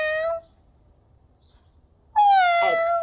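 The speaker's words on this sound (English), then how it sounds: "It sounds like a cat." Two clear meows from a cat, the first short and fading, then silence, then a louder, longer meow with a slight rasp partway through, close and alone.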